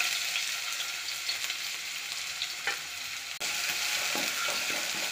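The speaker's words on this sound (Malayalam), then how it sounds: "ഇതിലേക്ക് ഇഞ്ചി വെളുത്തുള്ളി ചതച്ചത് ചേർത്ത് കൊടുക്കാം." Crushed ginger and garlic fry in hot coconut oil, a steady, close, dense sizzle that holds throughout with a brief dip and a few stirring scrapes near the end.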